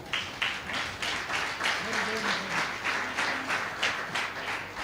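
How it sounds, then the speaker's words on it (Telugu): A church congregation at a field training programme claps loudly together, steady rhythmic bursts of applause filling the room, with faint voices murmuring underneath. "క్లాప్స్ కొట్టాలి గట్టిగా."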